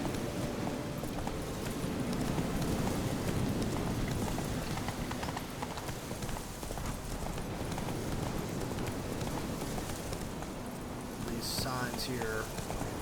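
Roach the horse gallops in The Witcher 3, hooves clip-clopping in a steady fast rhythm throughout, with someone talking over the hoofbeats.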